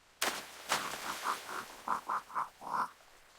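Cartoon frogs croaking at a forest pond, a run of short rounded croaks in an uneven rhythm, some doubled, loud and close with no talk over them.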